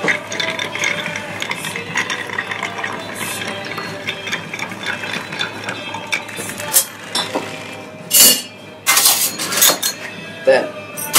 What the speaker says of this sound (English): Then 40 ml of sweet vermouth as the formula. Need to give it a good stir just to give the link.